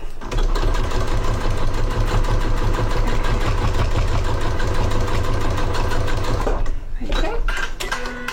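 A sewing machine stitches fabric in a steady, loud mechanical run of about seven seconds, stopping near the end.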